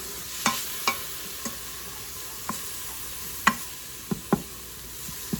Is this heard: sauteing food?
yes